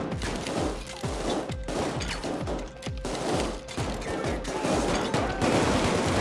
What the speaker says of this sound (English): Officer, would you kindly not shoot at me?